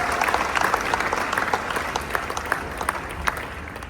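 Audience applause welcoming a guest speaker, Natalie May, at a Flinders Foundation event: steady, dense clapping from a full room that carries on evenly for the whole stretch with no voices over it.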